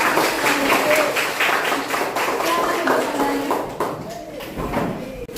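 A class of eighth-grade students claps together in a classroom, a dense run of overlapping claps lasting several seconds with voices mixed in.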